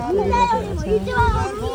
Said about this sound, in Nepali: बच्चाहरू खेलिरहनु भएको छ।